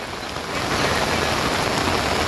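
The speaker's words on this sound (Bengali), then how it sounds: "এত বৃষ্টি, অতি বৃষ্টির কারণে কোনো রকম কিছু দেখাও যায় না ঠিক মতন।" Heavy, steady downpour on the Sangu river in Bandarban during a flood, a dense continuous hiss of rain close by that swells slightly louder after the first half second, with no voices.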